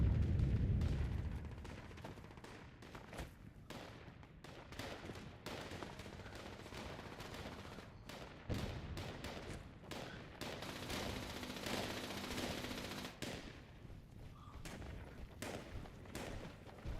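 Rapid video game gunfire from a heavily used gun, continuous dense bursts of shots layered with rumbling blasts over a steady noisy background.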